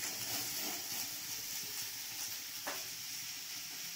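Jackfruit and potato pieces fry in oil in a kadai, a soft steady sizzle and hiss close by with faint stirring, continuous and quiet, with no talking.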